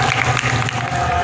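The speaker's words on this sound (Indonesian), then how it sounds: "Berikan tepuk tangan yang meriah untuk Sifa Aulia." Applause from an audience at a village event broadcast, a short, dense burst of clapping heard over a steady low hum, lasting barely more than a second.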